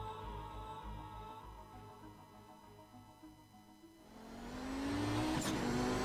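Quiet background gives way to a GSRC Audi race car in a Kamel GT Championship game race at Spa-Francorchamps roaring up loudly and revving hard, with a brief tire squeal near the end.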